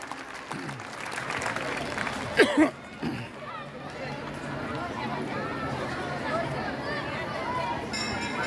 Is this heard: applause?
yes